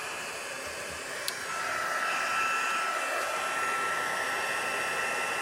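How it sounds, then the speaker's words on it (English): A handheld embossing heat tool warming up for melting embossing powder in card making, giving a steady close blowing whoosh that swells in loudness after a brief click, with no talking. "I don't want to burn my hands when I turn my heat tool on"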